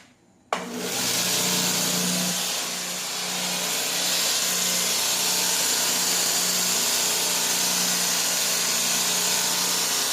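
A belt grinder sanding a railroad spike on the slack part of the belt whines steadily after a sudden start, a continuous loud mechanical hum with grinding hiss running throughout.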